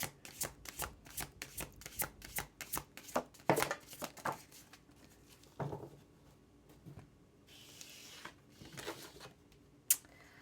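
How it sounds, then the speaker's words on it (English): Tarot cards being shuffled in a rapid run of crisp riffling flicks, followed by softer slaps and slides as cards are pulled and laid down, close and quiet. "I'm going to pull a couple more cards here, my pile fours"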